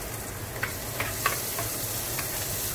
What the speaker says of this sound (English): Just like that, give that a stir